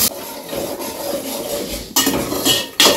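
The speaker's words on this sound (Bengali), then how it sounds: "কাঁচা মশলাগুলো একটু ভালো করে ভেজে নেই, মানে কষে নেই" Ground spice paste frying in a pan while being stirred, rough rubbing scrapes of a spoon against the pan with a low sizzle under it and a couple of louder strokes near the end, close and without speech.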